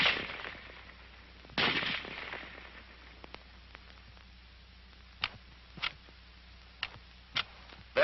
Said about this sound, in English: The rifle will fire each time the trigger is pressed until the magazine is empty.